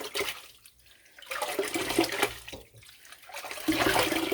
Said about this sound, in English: the yarn is rinsing clear